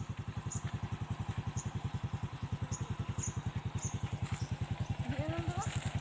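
A motorcycle engine idles nearby with a steady, rapid low putter, while faint voices and a brief rising whine drift in the background.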